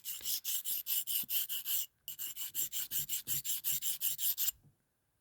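Rainbow opal being ground on a rough-grade grit wheel, a loud, steady series of rhythmic rasping strokes, about two per second, with one brief pause before the grinding resumes and then stops.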